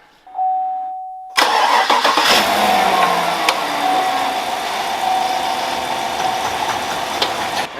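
A Chevrolet Silverado truck engine cranks and catches after a brief electronic tone, then settles into a steady close idle with a slight rev early on.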